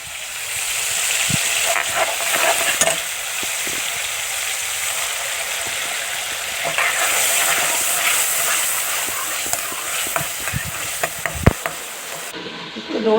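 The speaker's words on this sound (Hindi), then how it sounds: "अब इसके अंदर हम अपना मसाला ऐड करेंगे और अच्छे से मिक्स करेंगे और अच्छे से बुनाई कर लेंगे" Tomatoes and masala fry and get stirred in a pan for Pakistani halim. The sizzle is a steady, hissy wash, with a few close spoon scrapes and clinks scattered through it.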